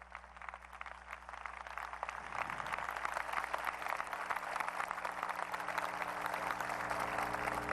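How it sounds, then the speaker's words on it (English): A large audience at a 2007 Alabama governor's inaugural address applauds the cabinet, with steady dense clapping that swells after a couple of seconds and holds at an even level, slightly distant in a big hall. "give them a round of applause"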